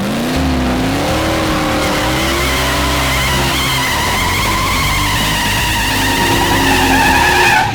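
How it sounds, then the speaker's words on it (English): A drag-racing car does a burnout, its engine roaring loud and close while the tires squeal and skid continuously, the pitch rising and wavering for several seconds. "I heard something about a burnout happening"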